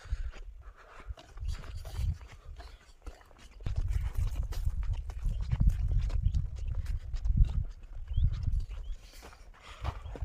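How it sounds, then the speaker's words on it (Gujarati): A pair of bullocks walks past on a village path, hooves clopping in an uneven patter that grows louder partway through, with faint background noise and no clear talk. "આ મારા કાકાના ઢાંઢા છે।"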